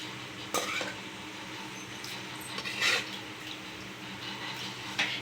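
Quiet stirring of intestine gravy in a pan, with a few soft scraping clinks of a utensil against metal over a faint background hiss.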